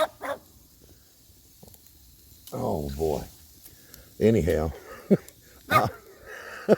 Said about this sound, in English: My dog ain't gonna let me make this video.